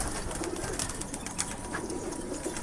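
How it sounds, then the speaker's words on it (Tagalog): Pigeons kept by a breeder give soft low coos repeated a few times. The cooing is mostly buried in loud, steady wind-like noise. "So, silipin natin yung mga ibon nila ni Kuya Rico."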